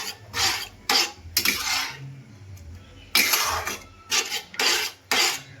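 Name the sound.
stirring boiled lentils into cooked spices in a pan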